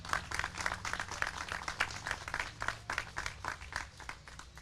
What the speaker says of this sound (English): Let's get a nice round of applause for them as well.